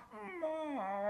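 A moose call imitating a cow moose in heat, made with a turkey call, gives one short, close, nasal whining bellow that rises and then bends downward.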